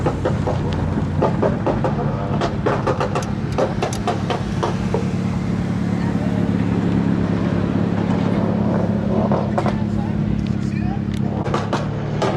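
A turbocharged Honda Accord drives slowly across a gravel lot: a steady engine drone and low rumble fill the scene from inside the car, with crunching tire-on-gravel noise and speech over the top.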